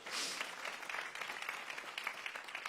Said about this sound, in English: clap for Karen